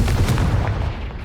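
A Confringo fire spell in Hogwarts Legacy lands as a dense, booming blast with a rumbling low-end roar that sustains loudly for about a second before easing slightly.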